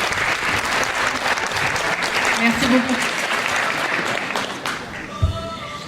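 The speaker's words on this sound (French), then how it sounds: "Vous pouvez l'applaudir s'il vous plaît." Pageant gala crowd applauds the sound and light engineer in a thick, steady burst of clapping that thins near the end, where someone briefly speaks into a microphone.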